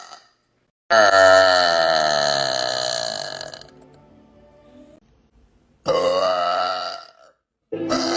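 A long, loud, rumbling burp from a woman rings out close up for about three seconds, then trails off, followed by two shorter belches after a pause.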